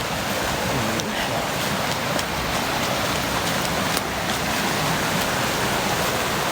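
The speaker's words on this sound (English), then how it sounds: "there's the waterfall there too. Oh, yeah. It's running good. Very small waterfall." A very small waterfall on an off-grid property runs steadily, a constant broad rushing wash of falling water with a few faint clicks, unbroken and at moderate level throughout.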